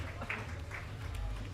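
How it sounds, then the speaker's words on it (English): Faint, distant applause from spectators at the back of the hall rises after a student robotics competition match and continues as a soft, even patter of clapping. "I hope you could hear the clapping in the back."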